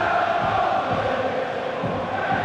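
Stadium crowd in FIFA 15 singing the Pompey song at a Hartlepool versus Portsmouth match, a steady, dense wash of massed voices and chanting that holds at an even level throughout.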